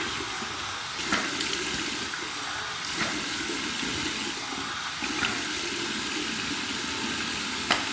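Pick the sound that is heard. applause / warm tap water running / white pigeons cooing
warm tap water running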